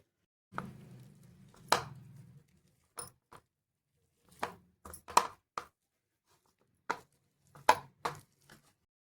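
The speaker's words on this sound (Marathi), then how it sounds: "बटाटा असा छान असा मॅश करून घ्यायचा आहे." Boiled potatoes mashed by hand for vada pav, a sparse, irregular series of soft thumps, squishes and sharp taps against a bowl, close and quiet with short pauses between strokes.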